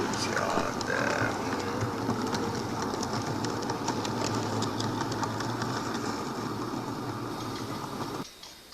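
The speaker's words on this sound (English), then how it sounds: "one last pass for that train of the Lms freight wagons" A small N gauge model freight train of LMS wagons rumbles and clicks steadily along the track for several seconds, with faint voices underneath, then the running noise cuts off abruptly near the end.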